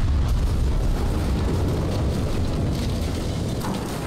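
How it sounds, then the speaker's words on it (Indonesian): A missile blast in the Battlefield video game, fired from an anti-aircraft tank or Stinger FXM-33 launcher: a loud, sustained low rumbling roar that fills the whole clip without pause, with no voices. "Waduh, kena rudal."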